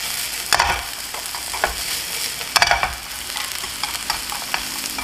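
Shiitake mushrooms sizzle in a pan over high heat for yakiudon, a steady frying hiss broken by sharp scraping bursts as the ingredients are stirred and tossed.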